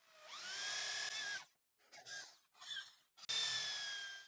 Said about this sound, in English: The holes will be drilled using the same drill bit.